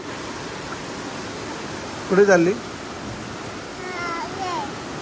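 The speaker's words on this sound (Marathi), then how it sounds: "पाऊस खूप पडतोय ना." Steady broadband hiss of heavy rain throughout, with a voice briefly speaking over it midway and faint talk near the end.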